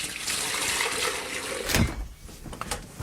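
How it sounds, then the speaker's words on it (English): A citrus ice cream mixture is poured from a bowl into a wide lidded container, a close, continuous liquid splash and trickle that ends abruptly with a clunk, followed by a few faint clicks. "Give it a final stir, and then pour it into a wide, clean, lidded container."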